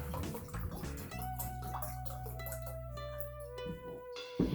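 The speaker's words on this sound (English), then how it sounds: "And I'm going to pour it into my pot" Orange vinegar is poured from a two-cup measure into a pot, a quiet continuous trickling and gurgling of liquid with a few drips and a small knock at the end.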